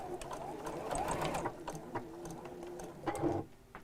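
A sewing machine stitches across the end of a piece of fabric in quick bursts of rapid mechanical clatter, close and fairly quiet, pausing briefly before a final short run.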